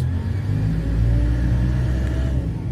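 The engine of a Komatsu 785-7 dump truck held at 1200 RPM during a brake and retarder test gives a deep, steady, loud rumbling drone with a slight throb throughout.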